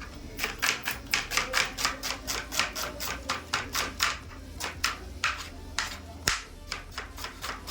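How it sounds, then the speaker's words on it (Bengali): A knife chops an onion on a board in a home kitchen in a quick, regular run of sharp close taps, steady at first and then more irregular, without talk. "পেঁয়াজটা কেটে নিই"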